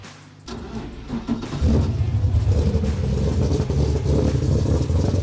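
Drift car engine warming up on Westlake tyres, idling quietly before rising into a loud, rough revving rumble that holds steady, with no talk over it.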